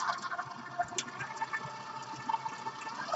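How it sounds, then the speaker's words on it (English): Tap water running over a sticky hand in a kitchen, a soft, steady splashing stream with faint gurgles, quiet and brief, no talking. "And rinse my hand real quick because it's sticky."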